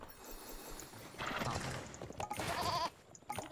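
In the strategy game Age of Empires Online, a sheep's short wavering bleat rises near the end over a busy bed of game ambience and clatter.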